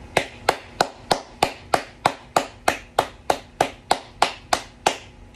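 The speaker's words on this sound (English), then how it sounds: "Clap it up." A single pair of hands claps in a steady, even rhythm, about sixteen sharp, close claps with no one talking.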